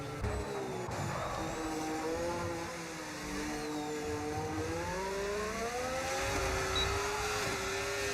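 McLaren Formula 1 cars race in a video game on the Belgium circuit, engines whining at high pitch with rising and falling revs as they pass through gear changes, a steady, moderately loud drone.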